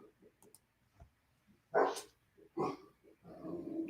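A dog barks indoors, two sharp loud barks with a gap between them, followed by softer huffing and grumbling, with faint knocking sounds beforehand.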